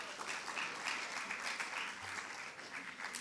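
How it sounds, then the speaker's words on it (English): Applause for a high school baseball team at a spring sports varsity awards event, a steady wash of many hands clapping through the whole stretch at moderate, slightly distant level. "let's give them a round of applause since they're getting ready for their sectional game today, is the baseball team"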